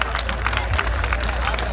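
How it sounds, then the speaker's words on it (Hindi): Audience applause at the Echelon Echista 2K24 college festival: a brief, loud, continuous wash of crowd clapping mixed with murmuring voices, filling the whole moment. "बहुत अच्छे का एक आदमी ने ताली बजाई।"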